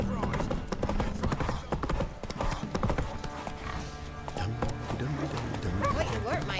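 Roach, the horse in The Witcher 3, gallops with rapid, continuous hoofbeats over game music and ambient sound, while voices speak intermittently over the running.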